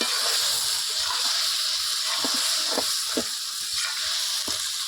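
Okra and peanut mix sizzling in a pan as the last of the water cooks off, a steady broad hiss with a few soft scrapes and pops, close and alone without talk.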